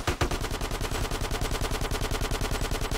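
Automatic gunfire in GTA San Andreas, a rapid, steady burst of close, loud shots repeating evenly for about three seconds without a break.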